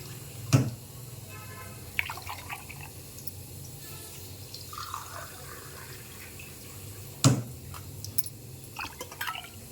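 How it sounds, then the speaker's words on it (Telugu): Glasses of water are poured into a cooking bowl, giving soft trickles and drips along with two sharp clinks of glass or metal in an otherwise quiet kitchen. "ఒక గ్లాస్ పోసాము మూడు గ్లాసులు ఒక గిన్నెలోకి తీసుకుని ఉంచాము"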